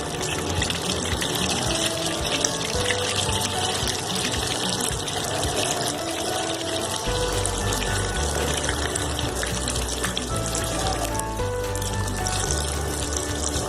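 Beef cocktail kababs, dropped one by one into hot oil, fry with a loud, steady, hissing sizzle that runs continuously and up close, with no talking.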